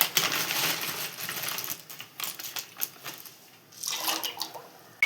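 Dry macaroni pasta pours into a pot of salted boiling water, a close rattling clatter of many small hard pieces, then quieter scattered ticks and a second burst of clattering.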